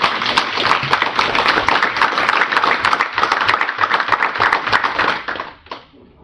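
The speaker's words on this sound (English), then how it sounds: "Could I get a round of applause for this?" A room full of people at a council meeting gives a steady round of applause, with dense clapping for several seconds before it fades out.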